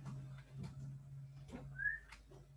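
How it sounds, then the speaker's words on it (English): A person whistling faintly in a classroom, with short thin tones over a low steady hum and scattered quiet background noises. "I don't know who's whistling."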